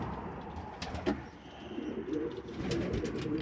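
Pigeons cooing in a breeding loft with wood stove pellets on the floor, low repeated throaty coos from several birds close by, with a few soft flutters and shuffles.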